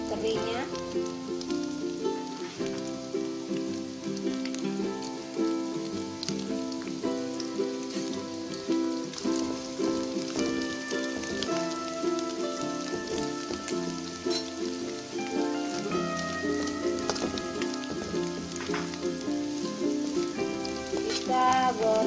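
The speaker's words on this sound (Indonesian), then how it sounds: "Kita goreng dulu terinya." Anchovies frying in oil in a pan, a continuous dense crackle and sizzle that stays even throughout, heard under music.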